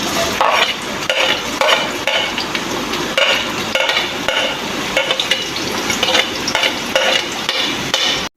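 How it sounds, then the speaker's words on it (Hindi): Sliced onions sizzle loudly in leftover oil in a frying pan while being stirred, making a steady dense crackle punctuated by spoon scrapes as they cook for Punjabi dal wadiyan, with no voices. "तैयार करने के लिए जो तेल मेरा बचा था फ्राइंग पैन के अंदर, वो मैंने इसमें डाल दिया है। और अब मैं इसके अंदर प्याज डाल रही हूँ।"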